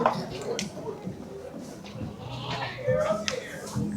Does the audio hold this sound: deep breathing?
no